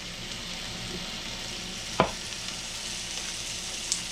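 Steaks frying in butter in a cast iron pan give a steady, close sizzle throughout, with a single sharp clack partway through and a faint tap near the end.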